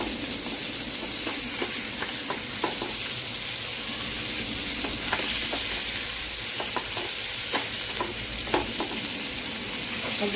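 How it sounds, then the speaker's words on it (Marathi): Surmai fish fries in a pan over medium-low heat, giving a steady, dense sizzle with scattered pops and crackles throughout, close and continuous without talk. "आता आपण याला असं शिजत ठेवूया, मस्त फ्राय होऊ दे।"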